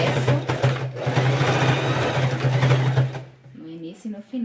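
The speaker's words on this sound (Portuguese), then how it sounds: "E vou fazer a mesma coisa, passando a costurinha de fora a fora." Sewing machine stitching a TNT fabric patchwork rug, running in a fast rhythmic whirr for about three seconds before stopping, after which a voice speaks.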